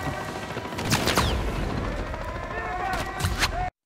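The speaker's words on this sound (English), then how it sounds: "Afterwards, you have to shoot the gas canister to kill the enemy." Gunshots fired at a gas canister on the Reactor mission in Call of Duty Modern Warfare 3, several sharp reports in quick succession over a steady game-world ambience, with a couple of crisp cracks near the end.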